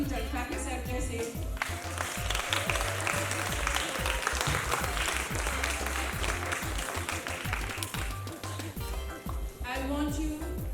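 Applause at a primary school graduation ceremony, a crowd clapping steadily through the middle, with voices and music-like tones in the background at the start and end.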